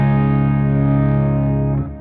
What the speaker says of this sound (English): we modeled the JHS Bender fuzz, which is like a tone bender fuzz